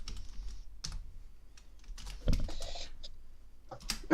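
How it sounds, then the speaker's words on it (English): Typing on a computer keyboard during a live charity stream, with scattered bursts of key clicks at close range, separated by pauses and a heavier thump. "I think you're typing. I can hear you typing."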